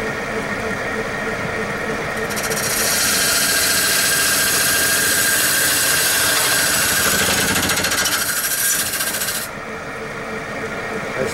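A wood lathe spins while a gouge cuts the turning wood into curls, a loud, continuous, harsh rushing grind that swells in the middle and then eases back toward the end.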